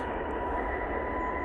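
An EasyJet airliner at Manchester Airport in low visibility gives off a faint, steady distant jet roar with a thin whine above it, continuous and unbroken for a moment.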